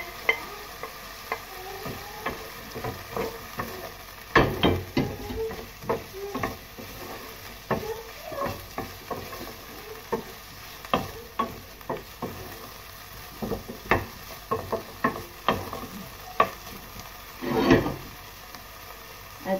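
Chicken browning in a pan as white onions go in for pancit canton: soft sizzling under intermittent scraping and stirring clatters, with a few louder utensil knocks spaced through the clip.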